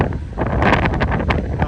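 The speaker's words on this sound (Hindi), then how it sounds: "ये हम बाल्टिक समुंदर में हैं और तेज हवा चल रही है इधर" Strong wind blowing across the deck of a Viking Line ship at sea on the Baltic, loud gusty rumbling buffeting the microphone with a rough roar throughout.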